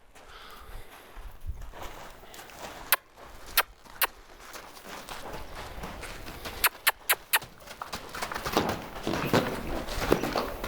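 A loose five-year-old mustang mare moves around with scattered hoof steps, several sharp clops standing out near and clear over rustling ground noise, with no talk.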